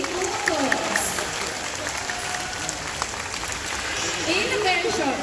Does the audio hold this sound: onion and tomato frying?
no